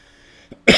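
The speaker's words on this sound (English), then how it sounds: "Sorry about the cough, the sniffles," A single harsh cough bursts out near the end, close and loud, from a man with a cold at a blacksmith church live stream, after a faint throat sound and quiet hum.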